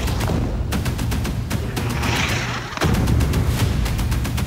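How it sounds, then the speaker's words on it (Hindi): Missile explosions in Gaza come as a dense barrage of heavy booms and rumbling blasts, loud and continuous over a few seconds, with a fresh surge of impacts partway through. "मिसाइलें फटी और गाजा में बारूदी गर्द का बवंडर उठा।"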